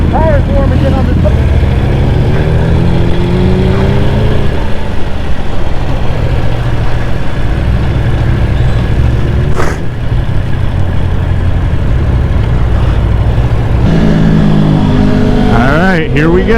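A superbike engine idles loudly and close, with rising and falling revs in sharp bursts near the start and end, before a run at an unexpected roadside superbike meet; people talk throughout.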